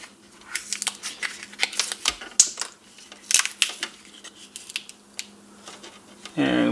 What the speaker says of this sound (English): And then we'll cut this one open.